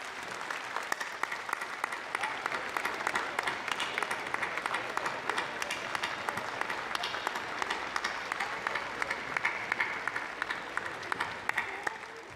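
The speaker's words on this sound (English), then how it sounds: "Can you guys give a round of applause to all your families and support networks that are up there" A large audience at a Memorial University convocation applauds steadily and loudly, with dense, continuous clapping that lasts the whole stretch without letting up.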